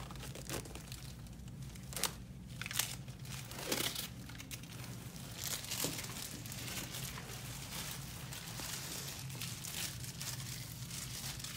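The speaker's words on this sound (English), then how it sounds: "And I'll unwrap the machine." Plastic wrap peeled and crinkled off a tattoo machine during an ombré eyebrow tattoo session, with close, intermittent crackling and tearing over a steady low hum.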